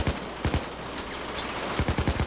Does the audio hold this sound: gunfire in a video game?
yes